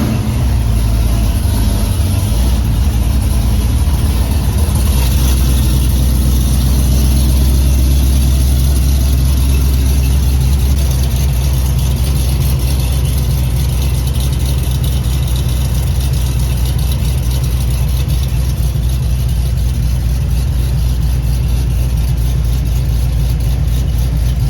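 A car engine runs steadily on jack stands after a stall torque converter install, a loud, close, continuous low rumble with a slight rev change near the start and no talking.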